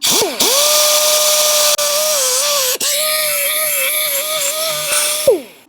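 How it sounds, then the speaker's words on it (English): Die grinder fitted with a square, non-rounded bit scouring rust off a broken stud, a steady high-pitched whine running nearly six seconds with two brief dips and a closing spin-down, loud and close with no talk. "I want to take a non-rounded die grinder bit"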